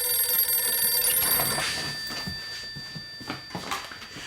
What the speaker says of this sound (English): the phone began to ring, like an angry alarm clock way too early in the morning